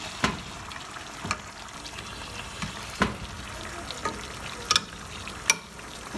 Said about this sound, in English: while that is simmering, I'm going to cut the heat down just a little bit because it is kind of boiling pretty high right now